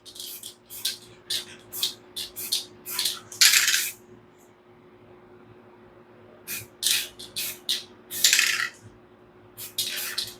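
A Montana Gold spray can with its standard cap sprays white paint in short, sharp hissing bursts, several quick blasts in two clusters separated by a pause, close and loud with a faint background hum.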